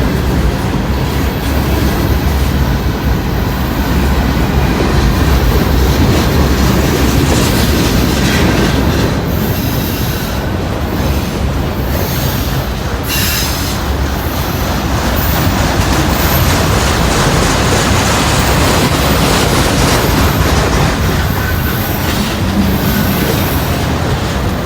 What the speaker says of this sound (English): Definitely the longest train I've ever seen on these tracks.